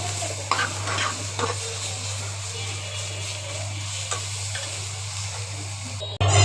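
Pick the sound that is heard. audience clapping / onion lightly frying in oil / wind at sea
onion lightly frying in oil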